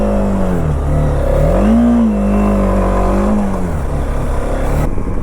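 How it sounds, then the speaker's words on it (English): A TVS Apache RTX 300 motorcycle engine on a highway ride, droning steadily with rising and falling revs as the bike accelerates and settles, loud and close with wind rush throughout and no talk. "let's go to highways and see how the all new TVS RTX 300 performs."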